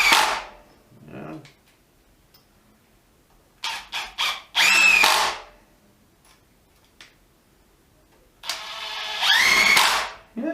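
A Bosch GDX 18V-200C cordless impact driver drives small screws in several short bursts of whirring and rapid hammering, loud and close, with quiet pauses between runs and brief speech nearby.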